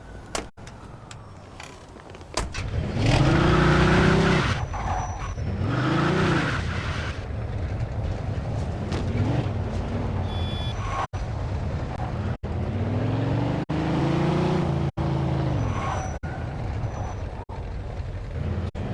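A car in the video game Mafia 2 drives along with its engine revving up and down in repeated surges, accompanied by sharp clicks and a steady road rumble, loud and close throughout.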